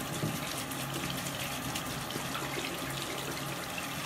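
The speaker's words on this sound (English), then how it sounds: "wait for the water to warm up" Tap water runs steadily into a sink while it warms up, a constant close hiss and gush with no talking.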